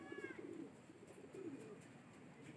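Pigeons cooing softly in a low, rolling call at moderate distance, over a faint constant outdoor background.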